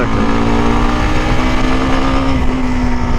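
A CF Moto 300 SR motorcycle cruising while ridden with hands off the handlebar, its engine a loud, steady drone with a constant tonal hum and wind rush, unbroken and close throughout.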